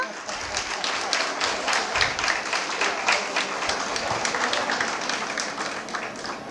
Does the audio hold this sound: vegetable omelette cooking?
no